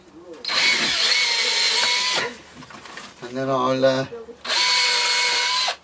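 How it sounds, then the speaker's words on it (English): A power drill bores through wood in two long, loud, steady whirring bursts. Between the bursts someone speaks briefly. "I'm drilling through the wood in preparation"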